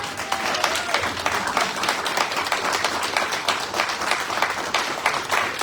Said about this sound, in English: I think they deserve a good round of applause.